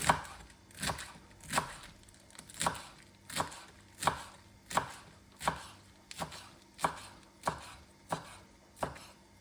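A knife shreds green cabbage on a cutting board for spring rolls, a steady run of about a dozen crisp, evenly spaced chopping strokes, close and clear with no talk.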